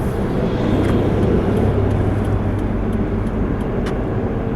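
Inside a 2006 Pontiac Vibe hatchback on the move, a constant broadband road and engine roar holds steady and loud, with faint clicks and ticks scattered over the drone.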